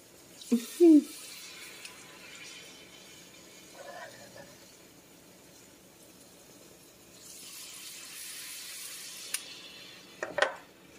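Plantain fritter batter fries in hot oil with a quiet, steady crackling sizzle that swells midway, framed by a few louder clinks and scrapes from a utensil.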